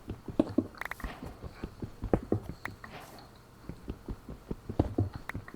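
Horse hooves in Minecraft clop in quick, uneven clusters of close, hard taps, pausing briefly midway before resuming in bursts.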